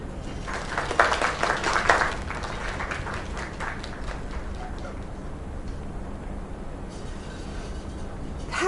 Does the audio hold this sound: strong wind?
no